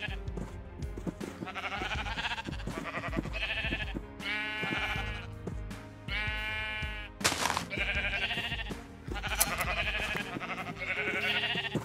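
Minecraft sheep bleat repeatedly in quick succession, loud and close, with someone talking over them and the game's sounds mixed in.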